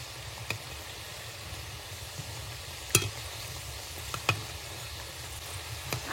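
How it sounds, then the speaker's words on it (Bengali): Puli pithe rice cakes frying in white oil give a steady, soft sizzle throughout, broken by a few sharp crackles and pops. "আমি তো সাদা তেলে ভাজছি"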